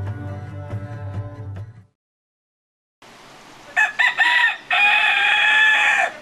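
A chicken makes low, rhythmic clucks up close, then after a brief silence a rooster crows loudly, a drawn-out cock-a-doodle-doo in several strained bursts over farmyard ambience.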